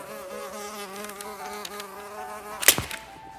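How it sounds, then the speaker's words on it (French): A housefly buzzes close by in a steady droning whine, briefly joined by a sharp clatter near the end. "C'est une mouche."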